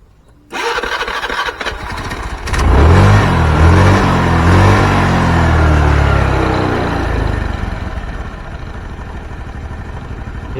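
A Honda Vario 110 scooter, just fitted with a new spark plug and a cleaned vacuum line, cranks with a short whir, catches and idles, then revs up loud and close and settles back toward a steady running hum.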